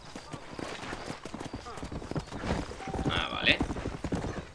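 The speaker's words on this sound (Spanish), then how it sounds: "¿Cómo corro con el caballo?" Hooves pound in a quick, steady rhythm as a horse runs in the Western video game Red Dead Redemption, close and prominent, with someone talking over it and a brief bright game tone.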